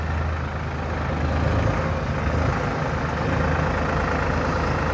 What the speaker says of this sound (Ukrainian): Тракторець.